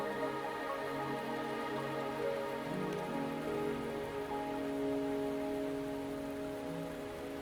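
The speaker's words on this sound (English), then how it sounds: "Are you trapped here by the rain?" In the video game Wuthering Waves, rain falls in a steady, even hiss over a sustained low musical drone, continuous and moderately quiet with no speech.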